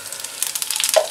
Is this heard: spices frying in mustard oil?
yes